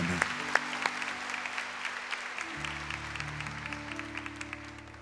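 A church congregation applauds after the Gospel reading, a steady patter of many hands that carries on while sustained organ or keyboard chords begin and swell underneath.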